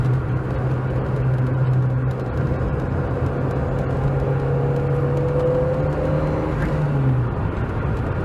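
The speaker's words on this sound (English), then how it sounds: "Oh, listen to that sound. It's just pure engine core." A Lancia Delta HF Integrale engine drones steadily from inside the car, a constant low tone with a faint rising whine, then the pitch drops near the end as the engine eases off; no one talks.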